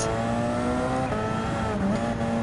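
Porsche 919 Hybrid race car engine in Gran Turismo 7, holding a steady, loud high-pitched drone at sustained speed with a slight pitch dip near the end and no talk.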